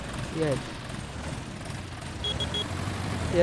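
A short series of high electronic beeps from a vehicle during field work on a Polish farm, three quick tones, heard faintly over low engine rumble and background noise.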